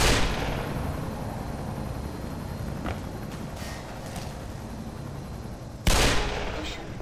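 Gunfire in the video game Black Mesa, with a loud close blast at the start and another sharp shot near the end, each followed by a long rumbling decay over steady background noise.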